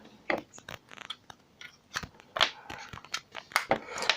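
Small plastic clicks, snaps and light scraping, close up and quiet, in a short irregular burst as InPods12 earbuds are pulled from their charging case.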